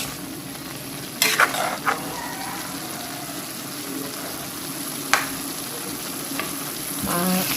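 Ground meat and eggplant frying in a pan, a continuous sizzle with occasional sharp utensil knocks and scraping stirs, heard close with no clear talking.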